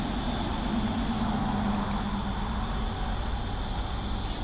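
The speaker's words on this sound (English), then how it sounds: "It's actually remote control planes." Remote control model airplanes flying at a nearby aero club, heard as a steady, faint buzzing drone of small engines carried over a river, with no talk.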